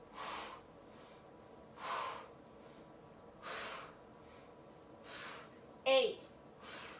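Heavy rhythmic breathing during an intense home ab workout, with four or five forceful exhales and snorts spaced about every one and a half seconds, close and clear, ending in a sharper gasp.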